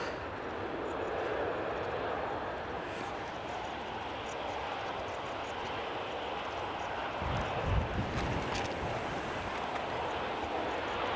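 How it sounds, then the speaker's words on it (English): Jet airliners taxiing at Edinburgh Airport, including a Ryanair aircraft, a broad continuous engine roar with wind noise, fairly loud and steady from a distance, briefly swelling near the end. "the Ryanair Biarritz aircraft is also moving"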